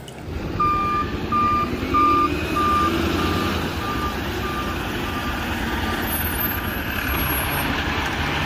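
A toy garbage truck sounds evenly spaced reversing beeps about seven times over a low rumbling engine idle, then stops beeping while the engine sound keeps running.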